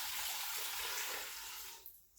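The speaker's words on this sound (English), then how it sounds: "We're going to put 4 cups of water into it." About four cups of water pour steadily into a small-batch pressure canner with a rack in the bottom, a close, continuous rushing gush that tapers off and stops near the end.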